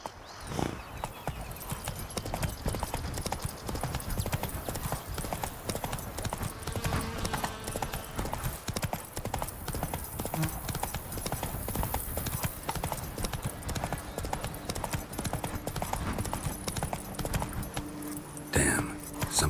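Horse galloping in The Witcher 3, steady clip-clop hoofbeats running continuously throughout at close range, with occasional whinnies and faint game ambience underneath.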